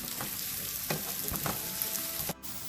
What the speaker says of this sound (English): Saute it well.